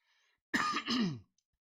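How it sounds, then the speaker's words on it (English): A single close throat clearing, a rough guttural burst flowing into a short cough, lasting under a second and followed by silence. "I wanted to cough since, but yeah, thank God now I'm free"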